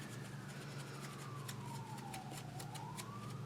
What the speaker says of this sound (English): got some sirens going on in the background